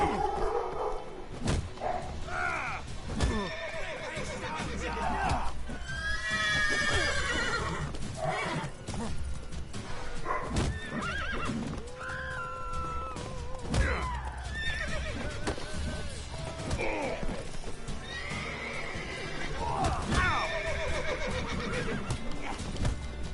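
Horse in The Witcher 3 game, whinnying and neighing repeatedly in loud, agitated bursts over a steady clip-clop of hooves, with scattered sharp thumps throughout.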